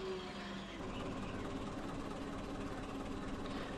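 A pickup truck engine runs in the Coal Mining Simulator video game, a faint, steady low idle hum with a slight tonal drone throughout.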